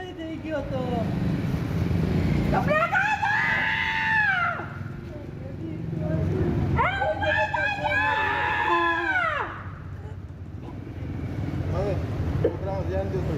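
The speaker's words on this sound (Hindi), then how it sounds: "अस्पताल के बाहर किस तरह से चीख चित्कार मचाते व्याकुल नजर आ रहे हैं।" Grieving relatives outside a hospital cry out in anguished, wavering wails that rise and fall in long, distressed bursts, with layered voices and background commotion throughout.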